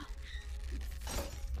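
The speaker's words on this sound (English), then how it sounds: "I just heard broken glass and then it was on the floor" Glass shattering in a video game, a sudden crash with a bright, splintering burst over a low rumbling game backdrop, fairly faint and brief.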